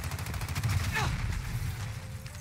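Rapid gunfire from a video game, a burst of repeated shots layered close together with a brief sweeping effect partway through, heard under a player's voice.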